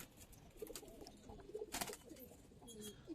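Giribaz pigeons cooing in a loft, soft repeated throaty coos close by, with a brief flutter in the middle and quiet background.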